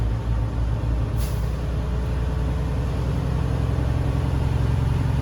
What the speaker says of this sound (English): I'm going to rev it up a little bit and see if I can see the needles are moving.